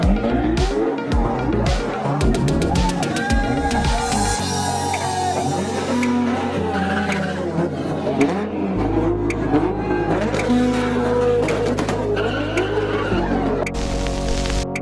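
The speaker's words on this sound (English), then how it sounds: "That was a very clean drift around the corner." A JDM car drifts around a corner, tires squealing loudly over a revving, accelerating engine, with continuous screeching and exhaust roar throughout.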